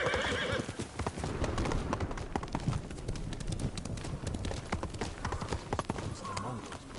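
Horse hooves clip-clop steadily through the whole stretch in the video game Ghost of Tsushima, joined by a few neighs over a dense layer of other game sound.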